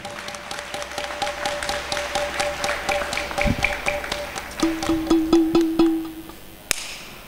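An audience honouring a singer at an event in Pollachi claps in an even, rhythmic beat over sustained tones, the claps close and regular before a single sharp knock near the end.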